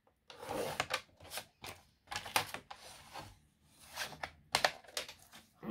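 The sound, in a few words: cutting card with a cutter or scissors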